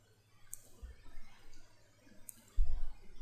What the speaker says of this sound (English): Click on the drive, click on Turn on Bitlocker.